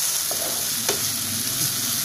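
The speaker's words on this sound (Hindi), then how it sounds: "इसे भी हम अच्छी तरीके से भून लेंगे।" Chopped tomatoes fry with spices and salt in a pan over medium flame. A steady, close sizzle runs throughout with a few light clicks of stirring, and no voice.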